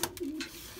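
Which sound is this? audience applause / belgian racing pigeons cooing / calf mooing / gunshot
belgian racing pigeons cooing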